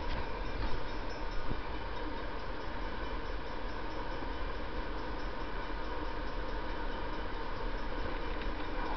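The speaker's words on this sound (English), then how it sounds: "here comes the bullet train" A steady, quiet rushing rumble of a bullet train moving past in the video game Trainz, continuous and even, with a faint clatter early on.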